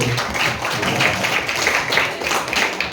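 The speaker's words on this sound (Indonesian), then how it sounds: "Tepuk tangan dulu." Students applaud during a school outreach session in a hall, a steady patter of many hands clapping for a few seconds, fairly loud and without talk.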